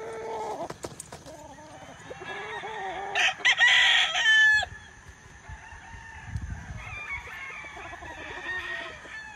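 A pure white Kelso gamefowl bull stag, 14 months old, crows once in a clear mid-length burst near the middle. It is preceded by scattered clucks and farmyard noise and followed by quieter fowl sounds.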